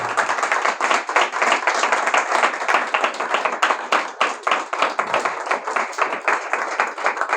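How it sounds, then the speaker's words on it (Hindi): A church congregation claps loudly together in a dense, fast, continuous volley of hand claps that carries on for several seconds with no speech over it. "हम सब प्रभु की महिमा की तालियां देंगे जोर की एक बार।"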